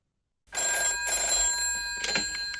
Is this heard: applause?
no